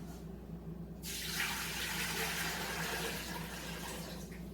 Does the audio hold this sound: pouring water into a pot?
yes